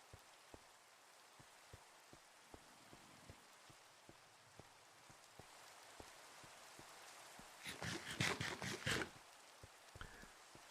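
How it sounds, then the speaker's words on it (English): Steady rain falls at night in a video game, a soft continuous patter with scattered sharper drops, swelling into a brief louder splashing burst near the end. "Raining and nighttime."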